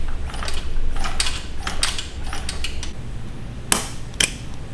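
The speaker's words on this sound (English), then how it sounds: "we are putting our chain tensioner on right now" Metallic clicks and clanks of a motorcycle chain tensioner being fitted onto a long swing arm, with scattered sharp taps and a couple of louder knocks over a low background rumble.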